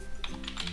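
A burst of quick keystrokes on a computer keyboard, several light clicks in rapid succession, faint and close.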